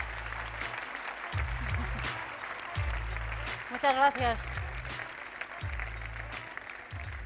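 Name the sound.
audience applause at sports awards ceremony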